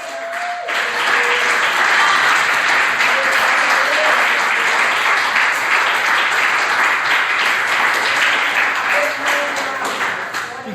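A church congregation at a worship service applauding loudly and steadily for about ten seconds, a dense wall of clapping with a few faint tones underneath.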